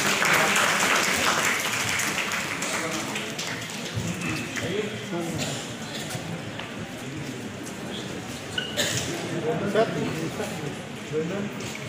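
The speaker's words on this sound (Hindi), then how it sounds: "जोरदार तालियां" Loud, sustained applause from an audience at an award ceremony honoring teachers, journalists and social workers, a dense crowd clapping for the full length with voices mixed in.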